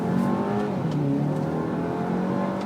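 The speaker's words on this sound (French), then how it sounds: "tu peux accélérer, se rendre au slalom" A SEAT Leon FR's engine accelerates steadily on a slalom test course, a loud continuous drone holding throughout with no pauses.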